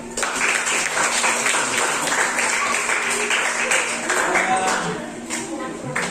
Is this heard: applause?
yes